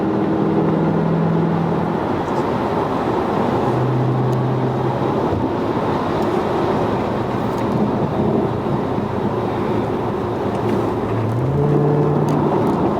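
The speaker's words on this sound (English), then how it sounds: "that whine, that's like the ultimate thing with these cars" Dodge Charger Hellcat driving with a steady, loud engine drone and supercharger whine, rising in a few sustained tonal swells over constant road and exhaust rumble.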